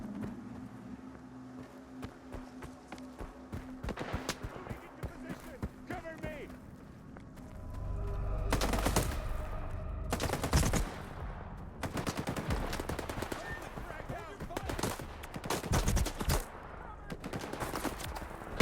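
Enemies attacking in STALKER 2 with bursts of gunfire, including rapid machine-gun volleys and single shots, loud and repeated in clusters over game ambience while a voice talks over it.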